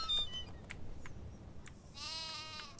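Sheep in the Nancy Drew video game set at Castle Malloy bleat in a quavering call near the end, with fainter earlier bleats over a low game ambience.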